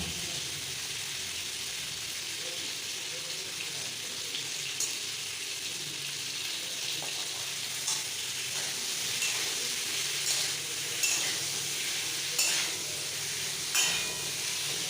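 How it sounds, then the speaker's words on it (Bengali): Potato pieces frying in a pan for aloor dum sizzle with a steady, even hiss and a few faint pops near the end, with no voices. "আলুটা আমি লাল লাল করে ভেজে নেব"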